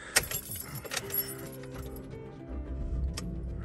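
A truck being checked for trade-in: keys jangle and click near the ignition, then the engine cranks and settles into a low, rumbling idle.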